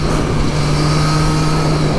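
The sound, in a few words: Triumph Street Triple 765 RS motorcycle engine revving on throttle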